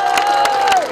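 A crowd at an outdoor political campaign rally claps and cheers, with loud sharp hand claps over a steady roar and a sustained shouted voice rising above the noise.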